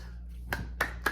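Three sharp, evenly spaced handclaps ring out over a steady low hum at a prison poetry gathering, sparse and fairly close rather than a full crowd.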